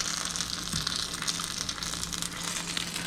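Salsa cooks in ghee in a hot pan for migas breakfast tacos, producing a loud, continuous close-up sizzle with dense crackling and no voices.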